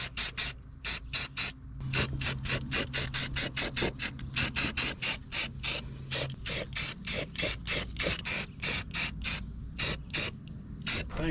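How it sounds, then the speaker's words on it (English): Spray paint from an aerosol can covers exposed metal on a Nissan Z car being prepped for a new engine, in a long run of short, sharp hissing bursts with an even rhythm, close and loud. "I just kind of want to touch everything up here just so it at least has paint on it"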